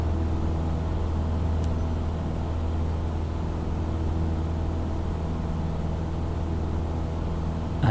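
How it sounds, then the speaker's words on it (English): An aircraft engine held at full throttle while accelerating in Microsoft Flight Simulator, a steady, even droning hum that stays at one level throughout. "Okay, now go to full throttle to accelerate."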